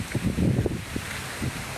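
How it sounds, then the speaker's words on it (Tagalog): Strong wind on the coast of Mindoro during a storm signal roars in brief low gusts and buffets close to the microphone, loud at first and then easing. "Lakas ng hangin."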